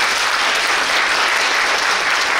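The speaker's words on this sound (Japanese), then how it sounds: "今一度大きな拍手をお願いいた" Steady, full applause from the audience at a school environmental symposium presentation, a dense, even wash of clapping with no pauses.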